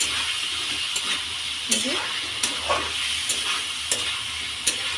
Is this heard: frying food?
yes